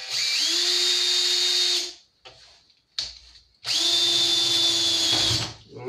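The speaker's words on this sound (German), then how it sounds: "der Bohrer eiert." Power drill boring a small rivet hole, its bit wobbling, heard in two long, loud, steady high whines separated by a short pause with faint handling noise, close to the listener.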